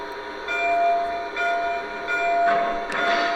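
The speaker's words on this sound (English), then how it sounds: "Here's bell number 1." Bell number one on a Lionel Legacy Union Pacific 4-12-2 #9000 model steam locomotive rings in a steady, repeating series of metallic strikes over a constant electronic hum, loud and close with no talking.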